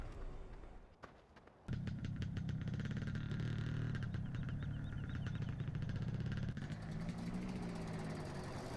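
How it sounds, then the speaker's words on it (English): An old combine harvester engine in Farming Simulator 15 cranks over and catches, then settles into a steady, loud diesel idle with a rough, rhythmic rumble. "Oh, you gotta love that startup sound every time you get into this thing."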